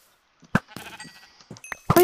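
A Minecraft sheep bleats in a few short, nasal bursts, close and fairly loud, separated by brief pauses with quiet in between.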